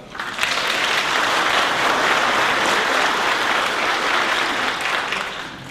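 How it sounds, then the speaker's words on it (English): A forum audience gives the 2018 NC State Senate District 30 candidates loud, steady applause that stays dense and even for several seconds before easing slightly. "round of applause, if we could"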